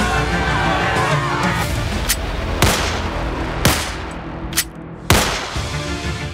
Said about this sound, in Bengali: একদিক থেকে গুলি চলছে, অন্যদিক থেকে বোমাবাজি